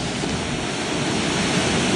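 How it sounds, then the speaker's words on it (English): Water surging into a rock pothole, a continuous loud roaring rush of churning water with wind noise on the microphone. "here's one with water still coming in"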